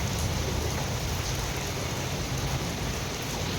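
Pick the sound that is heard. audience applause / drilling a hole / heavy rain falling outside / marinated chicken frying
heavy rain falling outside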